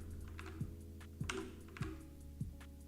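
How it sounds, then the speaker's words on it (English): Typing on a computer keyboard: a few sharp key clicks at a steady, slow rhythm, quiet and close over a low background hum, no voices. "please type your DL number"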